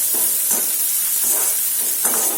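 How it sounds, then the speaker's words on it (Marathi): Onion and curry leaves fry in a pan for dahi bhendi, a loud close hiss and sizzle with soft stirring strokes at a slow, regular pace and no voices. "आता कांदा पण आपण छान सोनेरी रंगावरती परतून घेऊया"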